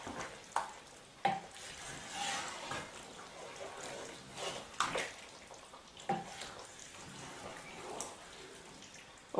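A spoon stirs eggplant and mushroom stew in a pot, with irregular soft scrapes, splashes and knocks at close range and no voices.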